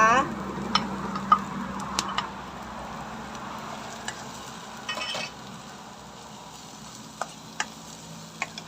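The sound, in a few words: stir-frying mushrooms with onion in a pan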